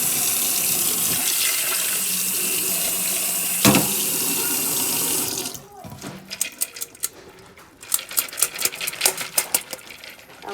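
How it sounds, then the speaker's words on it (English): Running tap water rinses pumpkin seeds in a drainer, a steady close splashing rush that stops partway, followed by scattered clattering and tapping sounds. "So I'm going to rinse out my seeds."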